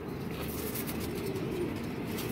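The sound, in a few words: pigeon arriving and cooing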